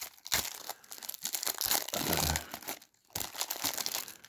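A wrapped card pack from the Boonlake board game is torn open, close and fairly quiet, with bursts of crinkling and tearing plastic wrap rising and falling over several seconds.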